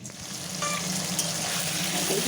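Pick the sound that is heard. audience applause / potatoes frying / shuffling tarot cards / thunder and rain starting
potatoes frying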